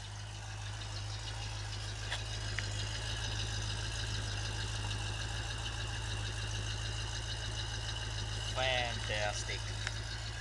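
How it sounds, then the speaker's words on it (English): A 1972 Ford Torino station wagon's 351 big-block V8 idles right after a cold start, a steady, close, low rumble that holds evenly throughout, with a brief voice near the end. "Nothing then better than a Ford 351 big block."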